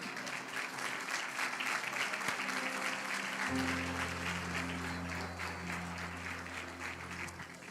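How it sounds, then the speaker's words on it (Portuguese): A church congregation applauds during a sermon, with steady sustained clapping under a held organ or keyboard chord that enters partway through. "Aplauda o Senhor Jesus, irmão."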